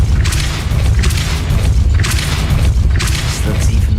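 A Repulso spell blast in the Hogwarts Legacy video game goes off as a series of booming, thudding bursts, about three over four seconds, above a steady low rumble.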